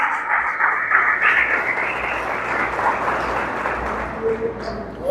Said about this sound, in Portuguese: aplaudo o Senhor Jesus